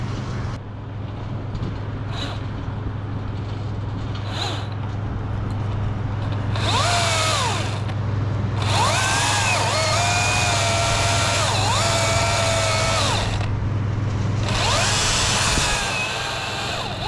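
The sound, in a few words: wood chipper chipping tree branches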